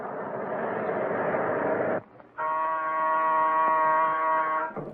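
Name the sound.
alarm buzzer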